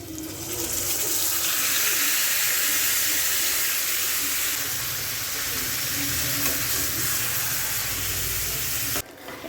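Potatoes frying in a pan of Bengali chicken curry, a loud continuous hissing sizzle with stirring underneath, steady throughout before cutting off near the end.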